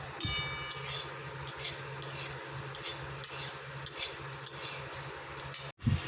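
Peanuts are dry-roasted in a pan and stirred with a utensil, producing repeated scraping, rattling bursts of nuts and metal at close range, followed by a brief clatter at the end.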